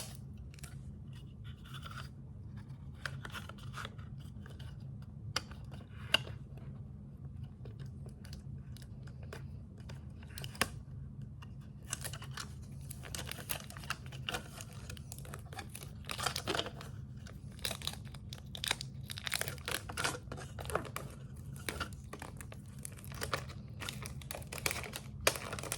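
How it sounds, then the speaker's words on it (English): Cheap clear packing tape being torn and pressed onto a book cover, with crinkly rips and rubbing that grow busier toward the end over a steady low hum, no talking. "now we're going to cover these with packing tape. I just use regular cheap packing tape"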